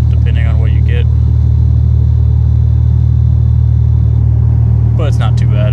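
A car fitted with a GTP ZZP 3-inch exhaust, running a catted downpipe and no resonator, heard from inside the cabin as a steady, loud low droning rumble, with a voice talking over it in places.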